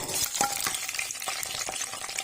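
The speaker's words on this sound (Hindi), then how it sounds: "अब इसके अंदर 1 चम्मच जीरा ऐड कर दिया।" Cumin seeds sizzle in hot ghee in a kadhai for a potato and eggplant curry, a steady bright crackling fry with scattered pops, close and continuous throughout.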